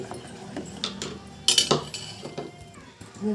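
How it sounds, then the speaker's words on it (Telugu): Ladle clinking and scraping in a pot while stirring thickening almond milk with an almond paste mixture, a series of close metallic clinks and taps with one louder clatter midway and no talk. "ఈ పాలని గరిటితో మధ్య మధ్యలో ఇలా కలుపుకుంటూ ఉండాలి"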